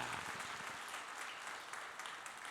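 Church congregation gives a warm round of applause to welcome returning members, a soft, dense patter of many hands clapping heard from some distance, steady for a couple of seconds.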